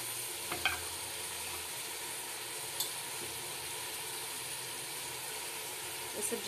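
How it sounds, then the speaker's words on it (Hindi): Chopped vegetables sizzling steadily in a spiced masala base with green chillies and a splash of water, a continuous frying hiss close by with a few soft stirring clinks, no talking. "देखिए सब्जी छोक दी है मैंने"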